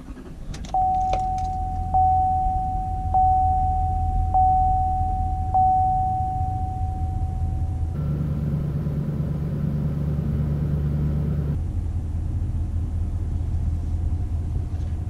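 Ignition of a 2017 GMC Sierra Denali HD 2500 pickup: a few seconds of chime tones over a low idle hum, then the engine cranks and catches into a rumbling idle that settles, heard close with no talking.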